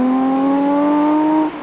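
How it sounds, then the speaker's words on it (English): A Cosworth rally car on the road during the Winter Rally, its rebuilt engine holding a loud, steady high whine that rises slightly in pitch before cutting off near the end. "And here is Dugan running very late indeed on the road"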